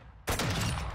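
A sudden burst of dense gunfire breaks out in a Call of Duty Modern Warfare 2 search-and-destroy match, loud and continuous from the first instant after a brief quiet lead-in.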